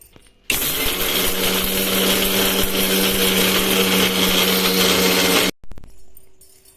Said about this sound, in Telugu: అన్నీ మిక్సీకి వేసేసాను